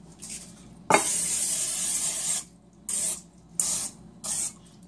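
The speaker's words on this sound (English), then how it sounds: "spray this pan here" Cooking spray hisses onto a baking pan for a cake in one long, close, steady burst, then three short spurts, with no talking.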